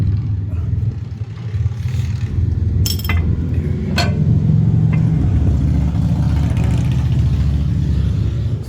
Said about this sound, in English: Motorbikes cruising by.